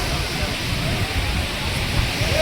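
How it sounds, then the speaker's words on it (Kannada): Heavy rain at the Ranebennur cattle market, a loud, steady hiss of downpour close around, with no clear voices. "ಮಳೆನೂ ಜೋರು ಐತಿ ಇವತ್ತು."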